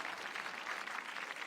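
Crowd applause from a Wii golf video game, a brief steady patter of clapping at moderate volume with no voices over it.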